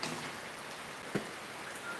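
Rain falls outdoors in a village as a steady, even wash of broadband hiss, with one brief closer drip or tap partway through. No voices.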